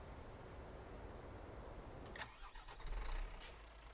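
A Scania S540 truck engine in Euro Truck Simulator 2 cranks and fires up about halfway through, the steady background hum shifting into a louder, rumbling idle, with no voices.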